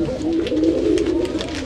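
A pigeon that had been looking drowsy coos close by: a low, soft, continuous throaty warble lasting under two seconds, with faint background noise.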